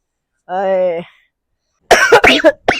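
An elderly father with a heavy cough in a family short-film scene lets out a drawn, voiced groan, then after a pause breaks into a rough run of harsh, close coughs.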